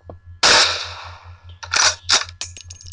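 A single loud gunshot in the video game Tactical Assassin 3, sharp and close with a long decaying tail, followed by several shorter bursts of noise over a steady low hum.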